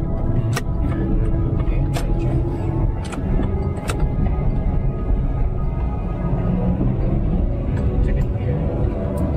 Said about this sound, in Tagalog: Okay, so simulan na natin yung pagdadrive.